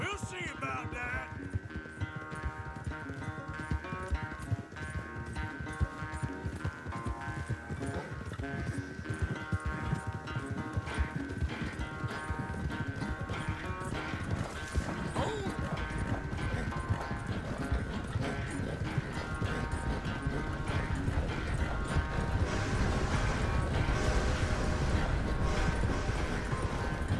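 A horse galloping in a race gives steady, rapid clip-clop hoofbeats that carry through the whole stretch at a close, even loudness. An occasional whinny breaks in, and faint voices sit underneath.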